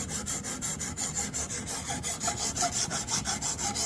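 Knife blade sharpened on a Xarilk Gen3 sharpener, working the edge near the base of the blade after raising a burr: close, steady rhythmic rasping strokes, about four per second, continuing throughout with no talk.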